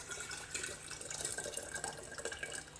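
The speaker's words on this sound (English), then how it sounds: "so I'll pour this water off into here." Water being poured off from a jar of beets into another container, a steady moderate trickle and splash running continuously from start to finish.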